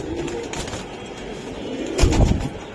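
Tournament high-flying pigeons coo softly in short throaty bursts, with a sharper flutter or thump near the end, fairly close.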